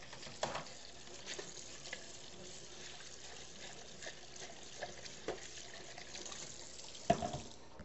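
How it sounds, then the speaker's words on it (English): Beaten eggs poured into melted butter in a pan give a soft, steady sizzle with faint scattered clicks and a sharper tap near the end, heard close and quiet with no talk. "And we pour our eggs in."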